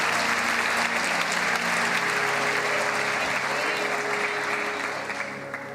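A church congregation applauds steadily and loudly throughout, a dense wash of clapping that holds up before thinning slightly at the end, with faint voices beneath.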